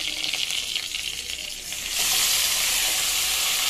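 Onions and soaked lentils sizzling in hot oil in a pan while being stirred, a soft steady frying hiss that swells louder halfway through as the lentils go in, with no talking.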